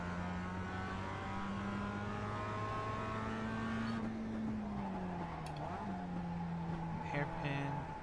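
A Mazda MX-5 race car in iRacing at Daytona hums steadily at near-constant revs, then the engine note dips and climbs again through a corner, with faint tire noise and a brief clatter near the end.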